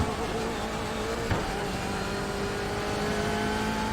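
A BMW M8 race car accelerates uphill at Road Atlanta in iRacing, its engine a steady, loud drone with rising pitch throughout, close and continuous.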